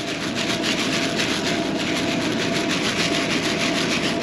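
A fertilizer granulometer sieve, the top tray with the largest holes loaded with granules, shaken hard so the grains rattle and rub in a steady, continuous rush up close, with no talking.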